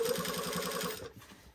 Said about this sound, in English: I'm sewing with the 3 millimeter stitch length.